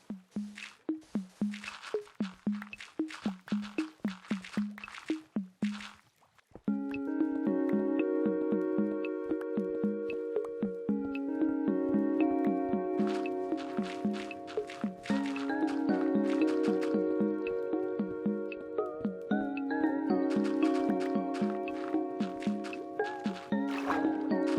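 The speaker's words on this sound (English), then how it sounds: "who doesn't love a bit of water terraforming?" Minecraft water flows and splashes during terraforming, starting with rapid repeated squishy block placements, then a steady layered stream of flowing water sounds under a sustained musical background.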